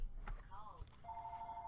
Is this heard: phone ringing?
yes